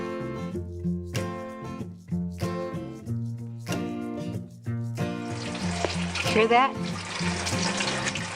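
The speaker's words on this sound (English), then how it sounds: "That's the sound of water running through my hydroponic tower." Water splashes and trickles steadily through a hydroponic tower, starting about midway under a voice and strummed music that play throughout.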